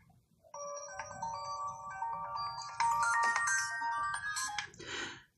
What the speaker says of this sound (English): I just got a text from Ashton.